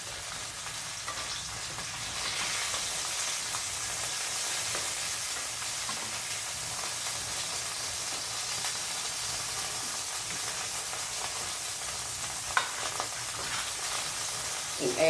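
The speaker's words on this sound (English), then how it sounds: "add just a little bit more oil. And the grease is going to be popping" Pork chops frying in a pan of oil, a steady close sizzle with grease crackling and popping throughout, one sharper pop near the end; no talk.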